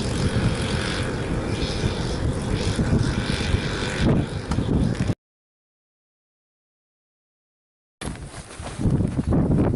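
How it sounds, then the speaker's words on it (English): Wind gusting across a frozen lake during ice fishing, a steady, loud rumbling roar buffeting the microphone, briefly cutting out to silence before returning. "She's a little windy out here today."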